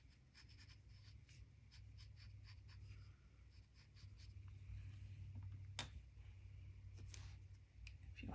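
Pencil sketching on paper for a Zentangle drawing, steady soft scratching strokes close up with brief pauses, no voices.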